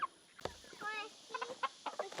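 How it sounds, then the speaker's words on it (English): A Lavender Orpington rooster makes brief, wavering calls and scattered clucks at moderate distance, broken by a few sharp knocks. "a lavender Orpington rooster, which is really cool."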